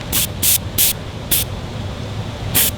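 An airbrush sprays paint onto foam in five short, sharp hissing bursts with brief pauses between them, close up over a low background hum.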